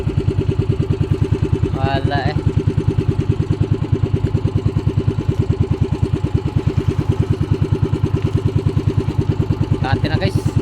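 Small engine idling steadily and loudly throughout, a dense even chug with no change in pace, with someone briefly speaking over it near the start and again near the end.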